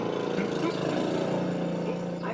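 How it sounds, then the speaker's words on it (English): A riding lawnmower engine drones steadily at close range, a constant low mechanical rumble with no breaks or changes in pitch. "The Dodos have lots of great things like a lawnmower you can ride on."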